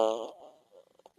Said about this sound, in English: That's a fart machine, though.